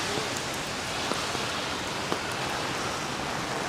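Steady rain falls across a New York City street during Tropical Storm Henri, a dense continuous hiss with occasional nearby drips and taps, no voices.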